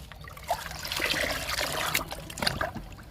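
Homemade liquid fertilizer trickles and splashes onto potted plants, a close, uneven pour with brief louder spurts, with no talking.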